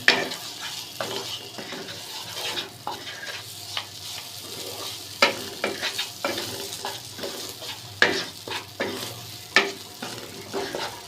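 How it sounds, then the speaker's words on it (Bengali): Fried Gobindobhog rice is stirred into a sizzling spice mix in a pan, with repeated spatula scrapes and metallic clinks over a constant frying hiss. "এখন দিয়ে দিব ভেজে রাখা গোবিন্দভোগ চালটা মশলার সাথে আবারও মিশিয়ে নিব"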